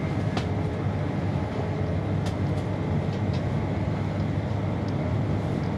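Steady low rumble inside a GWR Class 802 train running between Didcot Parkway and Reading, with constant rolling drone and occasional faint clicks and rattles from the carriage, no voices.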